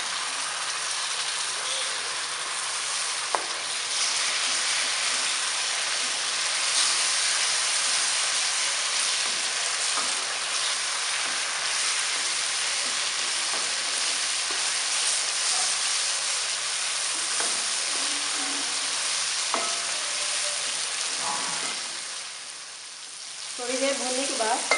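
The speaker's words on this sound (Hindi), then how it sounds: "थोड़ी देर भूनने के बाद अब इसमें टमाटर का पेस्ट शामिल करेंगे" Masala and tomato paste frying for a fish curry: a steady, close, even sizzle that holds for most of the stretch, with occasional stirring clicks and a brief dip near the end.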